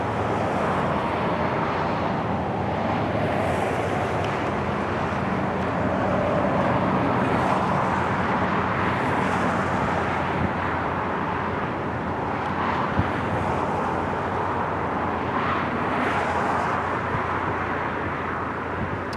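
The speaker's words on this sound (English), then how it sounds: "it looks like we got a C-130 is going to do another takeoff" A C-130 military transport aircraft takes off at a naval air station, its broad, steady engine roar filling the whole stretch at constant loudness with no talk over it.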